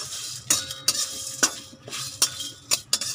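Whole spices dry-roasting in a pan for Bengali chicken angara, stirred with a metal utensil that gives sharp, irregular scraping clinks over a faint dry rustle, close up with no talking.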